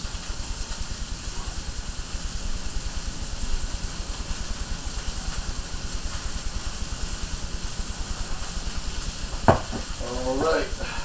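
Garlic sizzles steadily in a hot pan as burger sauce goes in for a veggie burger, a constant hissing fry with a brief sharp clatter and a short voice near the end.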